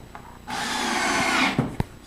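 A power drill drives a screw into a kitchen cabinet, a short whirring burst of about a second heard up close, with a couple of sharp knocks right after it stops.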